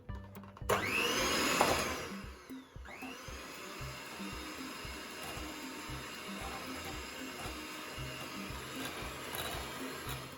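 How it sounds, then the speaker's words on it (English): A peanut butter chocolate cheesecake mixture being whisked in a home kitchen, heard as a steady whirring mechanical drone that starts loud and busy, then settles into a continuous, even churn for the rest of the stretch. "And now we whisk it."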